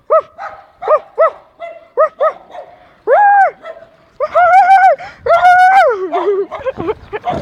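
Several dogs bark repeatedly close by on a street during a bike ride, sharp barks and yelps coming in quick bursts, then longer overlapping howling barks toward the end.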